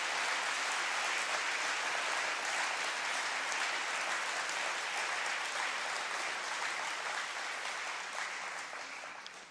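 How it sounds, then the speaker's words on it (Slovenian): A large audience at a party congress of the Slovenian party Gibanje Svoboda gives sustained, dense applause that stays loud and even before tapering slightly at the end. "dajmo še en velik aplavz, prosim, za naše soborce in soborke"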